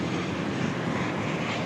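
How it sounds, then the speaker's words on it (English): An airplane at DFW Airport roars steadily as a broad, continuous engine rush, loud and close, with no speech over it. "It is a plane."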